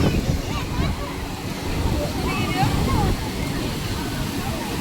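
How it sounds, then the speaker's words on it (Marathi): Strong high-tide sea waves surge and wash at Alibag beach, a dense continuous rush of water close by, with a crowd's voices and babble mixed in throughout. "खूप जोराने भरती आलेली आहे पाण्याला."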